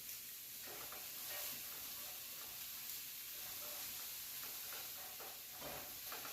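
Beef and broccoli sizzle steadily in a hot pan, a continuous close frying hiss with faint crackles and stirring scrapes throughout, no voices.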